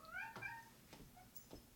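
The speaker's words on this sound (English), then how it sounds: "The cat came in too at the end. Do you hear her?" A cat meowing indoors, heard faintly in the background of a recording: one short rising meow near the start, followed by soft scattered knocks and shuffles, with no talk.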